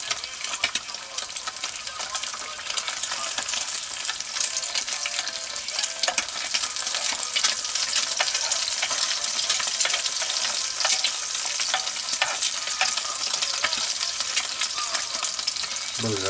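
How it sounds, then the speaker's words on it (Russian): A spoon scrapes and stirs food frying in a pan, with a continuous loud sizzle under repeated close scraping strokes throughout. "Все, ложкой-то царапаю."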